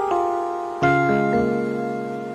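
Piano chords from a gospel song, a sustained chord struck and held, then a second chord layered in near 0.8 s with lower notes added, ringing clearly and alone without talk.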